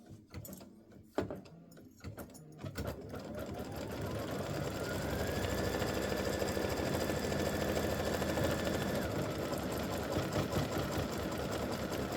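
A sewing machine does satin stitching around football shapes on a mug rug, starting with a few clicks and then running in a long steady whirring buzz at close range.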